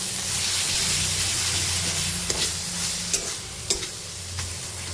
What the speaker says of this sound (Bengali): এখন আবার মশলাটাকে আমি খুব ভালো মতন কষিয়ে নেব।